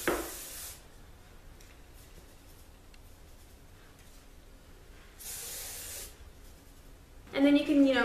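Hairspray hisses from a can onto curled short hair in two bursts, one brief at the start and one of about a second later, close and fairly loud, with quiet rustling between and a voice speaking at the end.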